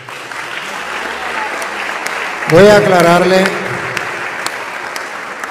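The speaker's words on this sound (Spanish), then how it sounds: "Un aplauso para la hermana." Church congregation applauding a woman after her testimony, a broad wash of clapping throughout with a voice speaking briefly over it midway.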